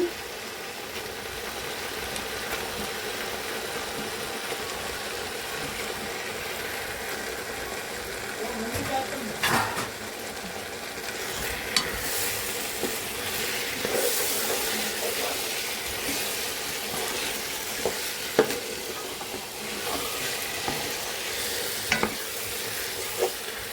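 Chicken frying with spices in a pot while cooking ulavacharu chicken biryani, a steady close sizzle with occasional stirring and scraping knocks running throughout, no talk.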